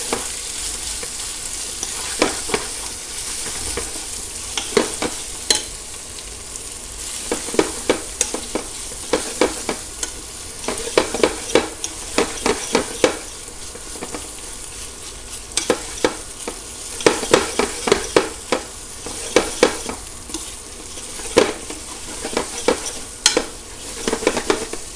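Chicken mapo tofu paste frying in a pan, a constant sizzle punctuated by frequent sharp clacks and scrapes of a utensil stirring and spreading it, close and steady with no talking.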